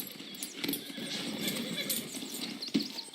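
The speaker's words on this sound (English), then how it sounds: "Okay, but I do kind of like this horse." Horse hooves clip-clop at a steady walking pace in Red Dead Redemption 2, with a short whinny over the hoofbeats and soft background ambience.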